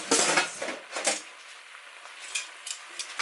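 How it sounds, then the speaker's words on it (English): A spoon stirs oxtail in its seasoned marinade inside a cooking pot. Several close clinks and scrapes against the pot come in short bursts, with quieter gaps between them and no voices. "And so I'm going to give this one more good stir."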